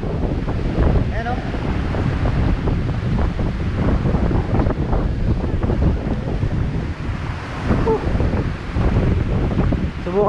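Strong wind buffets the microphone at the seashore while surf rolls in, a loud, constant roar with surging waves throughout.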